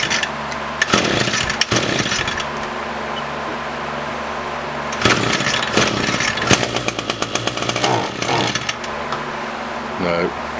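An Echo SRM-225 string trimmer with a dirty air filter and carburetor trouble is pull-started in repeated cranking bursts that rasp and sputter without catching, separated by quiet gaps, close up.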